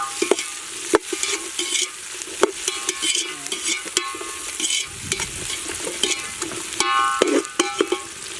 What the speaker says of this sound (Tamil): இப்போ பார்த்தீங்கன்னா பூண்டு, அந்த உரிச்ச பூண்டை ஆட் பண்ணுறோம்.